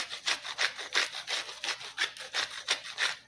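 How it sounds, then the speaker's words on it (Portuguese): Coarse salt is ground by hand in an old salt grinder, producing rhythmic raspy crunching strokes, about ten in quick succession, close and fairly loud with no talking. "Vou moer aqui na hora."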